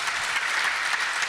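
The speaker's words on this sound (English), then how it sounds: "let's give him a round of applause" Steady applause from an audience at an Islamic community centre gathering, dense and even throughout the short moment, with no voices rising above it.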